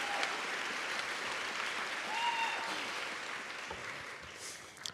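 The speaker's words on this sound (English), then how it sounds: "Can we just give them a round of applause real quick?" Steady applause from a commencement audience honoring student staff, a dense continuous patter of many hands at moderate level, holding evenly throughout and tapering slightly toward the end.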